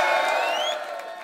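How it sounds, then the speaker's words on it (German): Audience cheering and whooping at a rap battle semifinal, a brief burst of loud crowd shouts with a rising whistle-like whoop over a dense wash of noise. "Bitte macht mal Applaus für Kollege!"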